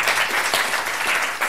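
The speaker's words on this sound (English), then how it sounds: "A round of applause for Victor." An audience at a tech meetup applauds after a presentation with a steady, loud burst of many hands clapping together.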